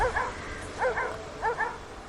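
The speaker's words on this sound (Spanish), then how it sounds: "El perro seguía ladrando" A dog barking in three short bursts, each a quick pair of yaps spaced evenly apart, moderately close over a steady background hiss, with no talking.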